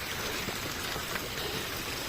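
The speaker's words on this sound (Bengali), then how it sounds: "ঝর্ণার জল ছাদ দিয়ে নামছে" Water from a mountain stream pours steadily down a rainy pilgrimage path on the Rudranath trek, a dense, continuous hiss of rushing water and rain close at hand with no voices.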